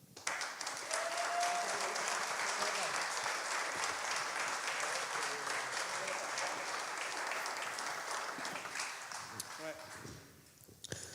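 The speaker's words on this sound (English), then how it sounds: "Another round of applause for Mr. Simon Woolley." An audience at an evening event applauds, a broad, sustained wash of clapping from many hands held at a steady level, then thinning and fading out toward the end.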